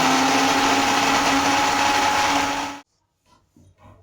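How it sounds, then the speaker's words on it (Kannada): A mixer grinder whirs loudly and steadily while blending watermelon with sugar for juice, then cuts off abruptly, leaving quiet clicks and light handling sounds. "ಇವಾಗ ಇದು ಮಿಕ್ಸರ್ ಮಾಡ್ಕೊಂಡು ಬರೋಣ ಬನ್ನಿ"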